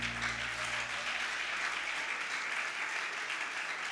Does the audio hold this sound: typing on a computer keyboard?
no